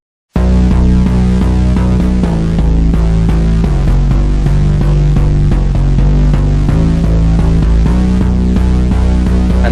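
A dry bass line from the FL Studio Boo Bass plugin with no effects plays a loud, repeating low pattern of sustained notes that shift in pitch, steady and close throughout.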